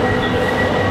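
A yellow Merseyrail passenger train on the Ormskirk line running along, a loud steady rolling rumble with a faint tonal whine from the carriage interior, continuous for a brief moment.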